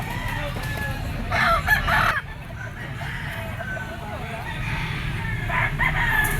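A blue-legged bulik bull stag gamecock crows out in a ringing cock-a-doodle-doo, with a second crow near the end, over steady farmyard background noise.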